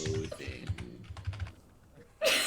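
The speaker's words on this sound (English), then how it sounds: "Typing into Google." Quick bursts of typing on a computer keyboard, a cluster of close, crisp key clicks for about two seconds followed by a brief pause and a louder noise at the end.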